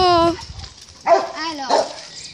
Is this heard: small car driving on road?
no